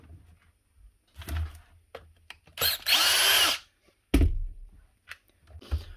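A die grinder with a built-in gearbox, in for repair after plaster work, spins up in a short burst of loud, high whirring that lasts under a second, with quieter bumps and handling knocks around it.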